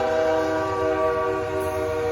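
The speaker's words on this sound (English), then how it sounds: "The train's coming." A train horn sounds continuously on an approaching train near a railroad crossing, a loud sustained harmonic blare with rumbling rail noise underneath.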